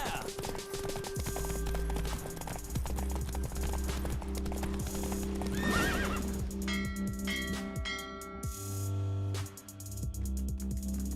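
Horse galloping in a race in the video game The Witcher 3, a steady clip-clop of hooves running under game music with a few whinnies, while a voice talks over it.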